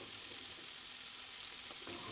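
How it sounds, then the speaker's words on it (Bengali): Rohu fish kofta balls fry in hot oil with a dense, steady sizzle that holds even and unbroken from start to finish. "কোপ্তাগুলো যখনই ঠিক মতন ভাজা হবে তখনই দেখবেন কোপ্তাগুলো কিন্তু আস্তে আস্তে অনেকখানি গোল ডিমের মতন কিন্তু ফুলতে শুরু করবে"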